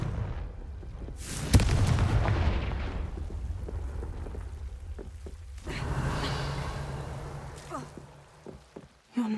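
Explosion spells in a Harry Potter video game burst with booming, rumbling blasts, a loud crack followed by a long roll and a second swell of debris-like crackle, alone without talk.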